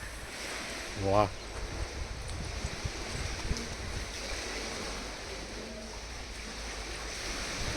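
Seawater of a rising tide rushes in at a seashore temple with a steady, even roar of surf, broken briefly by a short tonal blip near the start.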